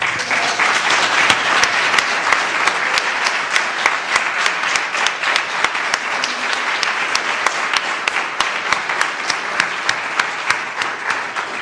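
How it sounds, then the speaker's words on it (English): A church congregation at its annual meeting applauds loudly and steadily for nearly twelve seconds, a thick, sustained roar of hand claps with sharp individual claps standing out throughout. "Please stand and take our applause."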